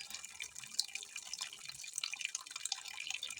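Water trickling and dripping from a tap into a bowl of soybeans set to soak, a steady thin splashing that runs on alone, close and fairly quiet.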